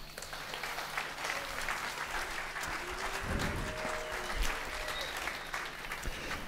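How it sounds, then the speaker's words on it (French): Warm audience applause at the Bobards d'or ceremony, dense continuous clapping from a sizable crowd filling the room steadily, with faint background voices mixed in. "que je vous demande très chaleureusement d'applaudir"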